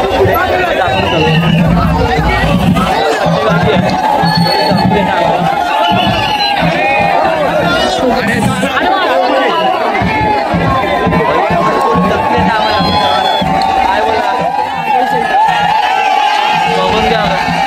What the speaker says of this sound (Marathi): हे बघा एवढे पट्टी गर्दी आहे, ते पब्लिक आहे उभे